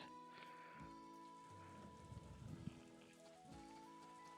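Rain falls in the farming game Story of Seasons: A Wonderful Life, a soft continuous patter under gentle in-game music with no voices.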